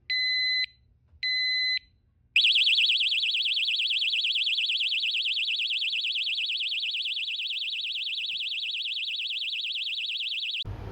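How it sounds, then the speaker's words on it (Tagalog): Two short electronic beeps, then a loud, continuous warbling alarm from a motorcycle disc brake lock that sounds steadily for several seconds before cutting off abruptly. "So yung pangalawa na magalaw siya, ayan, warning na yan, mag-a-alarm na siya."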